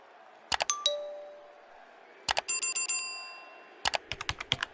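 Bright electronic bell chimes ring out in three short clusters, each a quick burst of metallic dings with a ringing tail, clear and alone against a faint background hiss.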